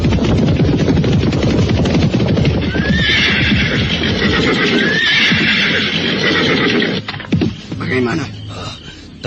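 Horses neighing loudly during a battle scene in an Indonesian period drama, two rising whinnies over a dense clatter of hooves and shouting voices, with the noise thinning briefly near the end.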